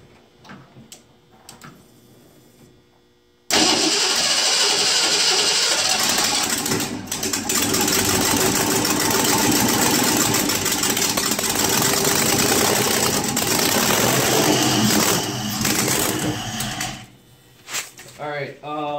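A newly built engine fires for its first test run, running roughly and loudly with fast ticking and clattering for about fourteen seconds before cutting off, with people talking briefly before and after.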